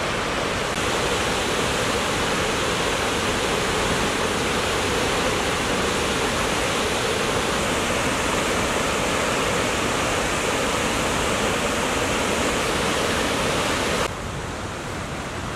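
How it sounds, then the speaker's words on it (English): A massive waterfall thunders as a steady, loud wall of rushing water that fills the whole stretch without a break, the roar dropping slightly near the end. "Look at that massive waterfall."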